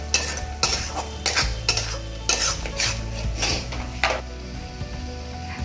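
Ground spices are stirred into chicken gravy in a pot: a series of loud, rhythmic metal scrapes and knocks from a spoon against the pan over a low sizzle and a steady hum.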